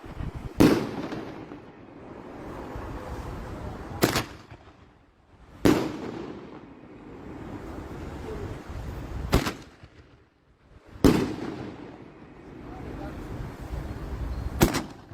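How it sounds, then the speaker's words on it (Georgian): New Year fireworks set off outside a regional administration building, five sharp separate bangs spaced a few seconds apart, each followed by crackling and fading rumble, with voices in the background. "სამხარეო ადმინისტრაციის შენობასთან მისულმა სიჭინავამ საახალწლო ფოიერვერკი დემონსტრაციულად გაისროლა"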